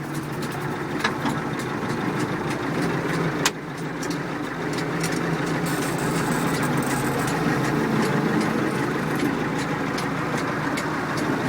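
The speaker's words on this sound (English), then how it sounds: "PTO engages and disengages perfectly." Massey Ferguson MF 590 tractor engine running steadily with the PTO engaged, a loud, close, continuous mid-pitched drone with a brief clunk partway through and no talking.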